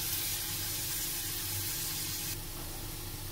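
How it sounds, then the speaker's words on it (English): Onion with ginger garlic paste sautéing in hot oil, a steady soft sizzle and hiss that stays even throughout, faint and close with no talking. "Now I'll add little of ginger and garlic paste and saute it."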